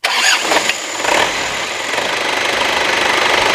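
A 2000 Isuzu Panther New Royal diesel engine cranks and catches, then settles into a steady, slightly clattering idle, loud and close with a continuous rough hum.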